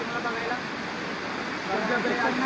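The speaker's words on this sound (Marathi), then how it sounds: "धबधबा कसा आहे बघा पाठीमागचा" A waterfall pouring down from above at Korigad Fort gives a steady, close, broadband rush of falling water that holds even and unbroken throughout, swelling slightly toward the end.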